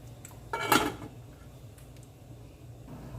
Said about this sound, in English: So I'm just gonna cover my pot